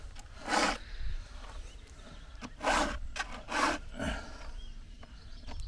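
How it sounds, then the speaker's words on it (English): A hand tool is sharpened with rhythmic rasping strokes, several distinct scraping passes spaced a second or so apart, close and moderately loud with quiet pauses between them. "They don't want to be watching me sharpen the tool."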